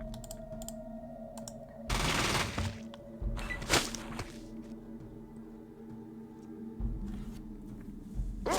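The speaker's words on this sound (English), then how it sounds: "Is he shooting me because I shot the claw?" Gunfire in the Fallout video game: rapid bursts of shots around two and four seconds and again near seven seconds, loud over a steady game background hum.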